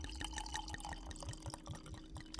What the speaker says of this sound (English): I'm going to pour a couple of glasses for us